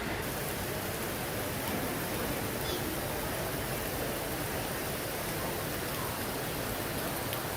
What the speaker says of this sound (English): Eric, do you like the rain?